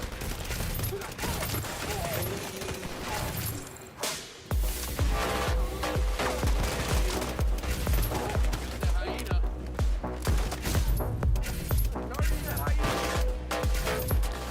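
An auto-reloading gun in The Division 2 fires sustained rapid bursts, a dense rattling stream after a brief pause, loud and continuous over other game sound.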